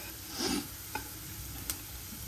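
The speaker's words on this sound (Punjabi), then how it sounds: "ਹਲਦੀ ਭੁੱਜ ਚੁੱਕੀ ਹੈਗੀ ਆਪਾਂ ਚੰਗੀ ਤਰ੍ਹਾਂ 2 ਮਿੰਟ ਹੋਰ ਪਾਉਣ ਲਈਏ" Turmeric and onions roasting in a pan for a milk-based dal, a soft sizzle running throughout with a few brief scraping stirs, close and fairly quiet, no talking.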